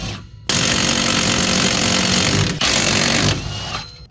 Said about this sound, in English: it looks like there's 4 bolts holding these wheel bearings in. So I'm gonna loosen those.